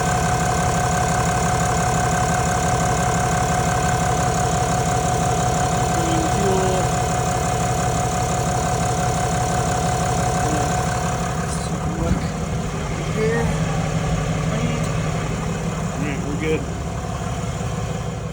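A 2023 Cummins HO diesel truck engine clatters at a steady idle close by, its knocking rumble constant throughout, with faint voices and small bumps over it.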